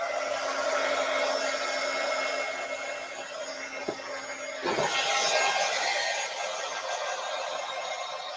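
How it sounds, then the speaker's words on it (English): A Derice heat tool blowing hot air over a handmade card, a steady loud whooshing hiss with a constant motor whine, close up, briefly dipping and shifting midway as the tool moves. "now I'm going to use my Derice heat tool. It's going to be a little loud."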